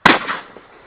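A single sharp shotgun blast during duck hunting cracks out loud and close, followed by a short echoing decay.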